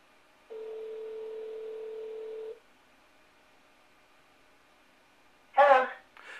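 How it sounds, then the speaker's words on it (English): A phone line on a LinuxMCE home phone system gives a steady, moderately loud tone for about two seconds while a number is dialed. Quiet follows, then a brief louder burst near the end. "dialing the number, ready to go"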